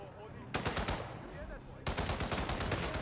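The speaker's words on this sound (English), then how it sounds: "Shotgun, really?" Shotgun fire in Hitman 2, two heavy bursts of rapid blasts in quick succession over a dense, noisy game background.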